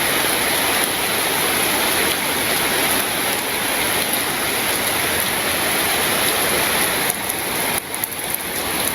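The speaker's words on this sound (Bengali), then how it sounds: "শব্দ কি বৃষ্টি, ঝিমঝিম বৃষ্টি শব্দ।" Steady rain pours during the rainy season in a Bangladeshi village, a dense, even hiss with no breaks that stays constant throughout. No voices.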